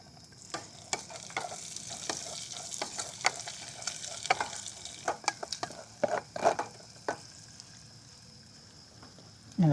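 Garlic and onion sautéing in hot oil in a pan at an overnight campsite, a steady soft sizzle with repeated sharp scraping stirs of a spatula, ending in a louder clatter.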